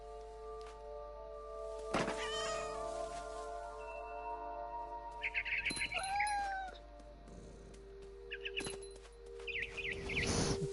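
A cat in What Remains of Edith Finch gives a few high, drawn-out meows amid soft thumps and bird chirps in a quiet room, with no talk.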